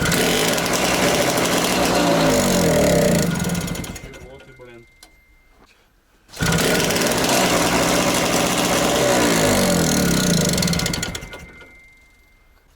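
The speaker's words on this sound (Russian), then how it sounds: "Так что пытаемся запустить железного монстра." A T-74 crawler tractor's starting engine revs hard and clatters loudly, then cuts out for a couple of seconds before roaring back and running steadily, with a man's brief remark during the pause.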